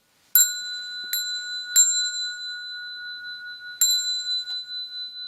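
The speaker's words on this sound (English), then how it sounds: "I'll ring the bell." A small bell is struck four times before a Buddhist bow, each clear metallic ring sustaining and overlapping the next, the last strike after a longer pause, with a faint tick near the end.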